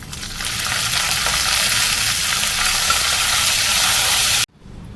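Dry red chillies and curry leaves fry in hot oil in a pan for a Telugu drumstick-leaf chutney, giving a loud, steady, close sizzle that crackles continuously before cutting off abruptly near the end.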